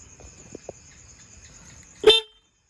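A single short motorcycle horn beep sounds near the end, loud and close, after a stretch of quiet background with a couple of faint knocks.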